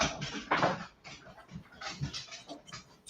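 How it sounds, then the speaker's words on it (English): Dogs leave a room with soft irregular panting, snuffles and paw shuffles close by, rising and falling in short bursts with no talking. "The dogs have exited the room."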